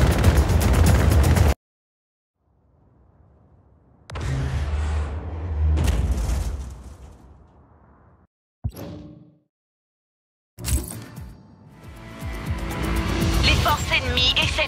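Cannon shots and explosions in the video game Just Cause 4 come as loud bursts broken by sudden silences, with rumbling blasts and a sharp crack, while a person talks over parts of it.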